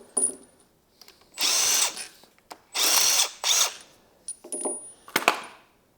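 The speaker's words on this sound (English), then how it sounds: "I actually smoked my bigger Makita impact. I got the smaller one, but it's still pretty rowdy." Short bursts from a compact Makita impact driver, several rattling hammering runs of one to two seconds each with brief pauses between, close and loud, worked on a Porsche 996 M96 engine during teardown.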